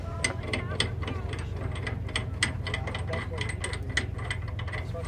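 A ratchet wrench clicks rapidly in steady bursts while bolting up a hatch on a Ram Kangaroo armoured personnel carrier at a tank event, close and crisp over a constant low rumble.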